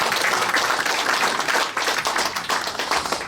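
Audience at a Korean church emergency prayer rally in a hotel hall applauds warmly, with dense, steady clapping from a large crowd that runs loud and unbroken throughout.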